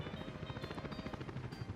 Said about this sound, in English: helicopters coming by